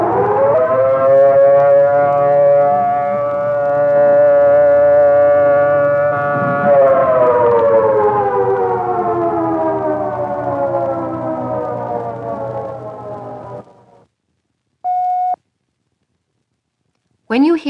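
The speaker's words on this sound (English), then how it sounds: "The alert signal is a steady blast of 3 to 5 minutes" Civil defense alert siren sounding a loud steady blast, holding a constant wailing pitch before sliding gradually downward and cutting off, followed by a short isolated tone.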